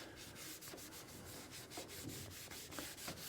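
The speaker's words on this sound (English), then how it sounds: "And I just keep rubbing it until it starts to dry out." Restorer product rubbed by hand onto aged black plastic exterior trim, giving a steady close scrubbing swish with rhythmic back-and-forth strokes and no talking.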